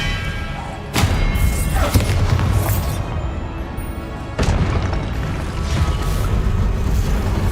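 Spellcasting in the video game Hogwarts Legacy: two sharp, loud blasts a few seconds apart, each followed by a dense, rumbling crash and crackle over constant background music, with no spoken voice.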